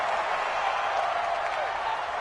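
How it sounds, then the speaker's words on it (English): Crowd noise swelling in an American football video game on PS4 ahead of a big third down, a steady broad roar of cheering throughout, fairly loud and continuous. "the crowd getting into it as we come up on a big 3rd down"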